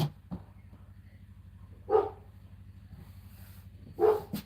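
A neighbors' dog barks twice from a distance, about two seconds apart, faint over a steady low indoor hum.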